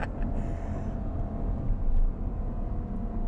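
A Ferrari GTC4Lusso engine accelerates hard, a deep continuous rumble that swells and holds steady, heard close from inside or near the car with no talking.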